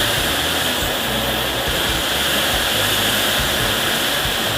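An Auarita K350 LVMP spray gun blows compressed air in one loud, steady hiss that stays unbroken and close from start to finish, with no voices over it.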